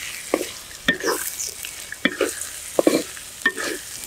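Spices for tempering mango pulihora, including chana dal and a pinch of asafoetida, fry in hot oil, with repeated stirring scrapes over a soft sizzle, close and moderately loud.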